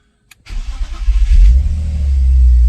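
A BMW M52 inline-six cranks briefly and catches, settling from a close, loud start into a steady idle hum.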